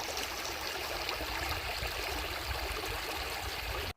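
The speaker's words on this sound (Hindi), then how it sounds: "ये है वैन गंगा नदी।" The Wainganga river flowing, a steady broad rushing and gurgling wash of water that stays constant and fairly loud for the whole stretch, with no voices, then cuts off abruptly.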